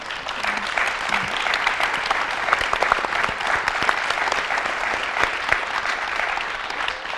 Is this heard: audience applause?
yes